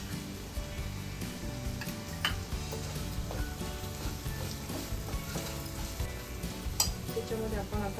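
Masala paste sizzles and fries in a pan with cooked onion and tomato for an egg curry, with steady crackling and occasional stirring clinks of a spoon throughout.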